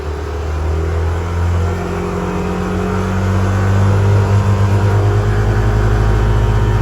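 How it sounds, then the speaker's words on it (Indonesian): An engine on an MBRtech dynamometer is revved up to 6000 RPM and held there, giving a loud, close, steady droning roar that swells slightly and then sustains without talk. "Dibuka gas ke 6000, ditahan."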